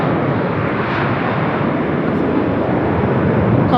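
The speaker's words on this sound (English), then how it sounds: "there is a plane taking off because we are at the Premier Inn right next to the airport" Airplane taking off near an airport beside a hotel, a loud, steady broadband engine roar that holds for the whole stretch with no pauses.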